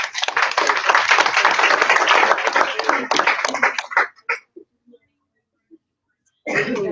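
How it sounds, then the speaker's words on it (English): Team training audience applauding Mike and Tammy Larson, a burst of clapping for about four seconds that tapers off into scattered claps, then speech begins. "let's give them a hand of applause"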